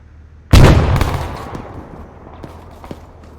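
A grenade blast in the Arma 3 video game, one loud sudden boom with a long rumbling decay and faint distant pops trailing after.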